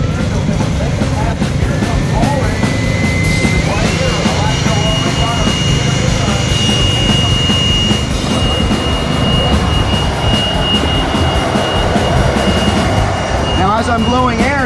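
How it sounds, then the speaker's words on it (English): Compressed air blasts steadily into a radiator hose on a Yamaha 85 dirt bike, a loud continuous close-up hiss and rush that holds for the whole stretch, with a brief shift in tone partway through. "I'm blowing air in, if I put my finger over this, it's gonna blow more through the radiator."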